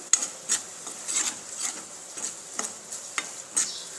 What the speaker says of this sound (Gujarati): ચપટી હળદર, ધાણા જીરું, કિચન કિંગ મસાલો ના બધું સરસ રીતે મિક્સ કરી લઈશું